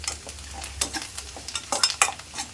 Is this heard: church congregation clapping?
no